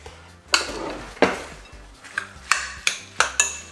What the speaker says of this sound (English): Mix up everything together.